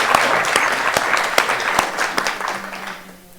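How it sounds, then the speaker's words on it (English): An audience at a literary weekend event applauds author Rob McDonald. The clapping is dense and close at first, then thins and fades over a few seconds. "Please give a round of applause to Rob."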